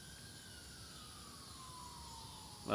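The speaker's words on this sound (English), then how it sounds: "There's a siren, if you can hear it, coming from this way." A faint, distant siren wails with a slowly falling tone beneath quiet background noise, ending with a short rustle up close.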